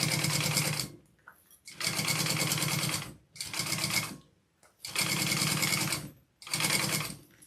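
A sewing machine top-stitching a backpack runs in five rapid, buzzing bursts separated by short pauses, close and steady, with no talk over it.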